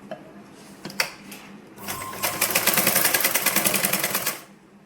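A sewing machine stitching a blouse: a few separate clicks and thumps open the sound, then a loud, close, rapid run of even mechanical stitching lasts for a few seconds before it stops.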